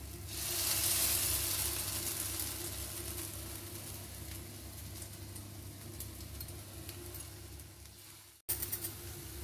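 Mung dal batter dropped in small portions sizzles steadily in a hot oiled pan, a continuous broadband frying hiss that stays fairly loud, briefly cuts out near the end, then resumes with a few sharper crackles.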